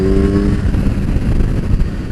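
A Kawasaki Ninja 1000 SX motorcycle pulls out of a corner on a test ride, its engine droning loud and close beneath heavy wind rush, the pitch holding fairly steady through the short burst.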